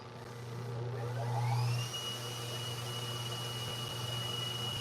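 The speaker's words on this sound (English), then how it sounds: "Turn on the suction now." The suction motor of a Ricoma 2402-T printer whirs continuously at low volume, with a brief rising whine as it spins up, droning on alone.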